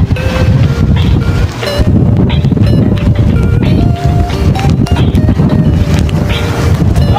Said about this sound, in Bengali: গাইস বৃষ্টি কমছে না এখানে।